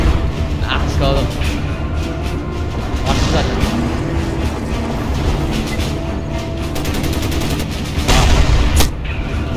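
Heavy gunfire in the shooter game Crysis, with repeated shots and bursts throughout and occasional booms, mixed with game noise, while a player talks over it.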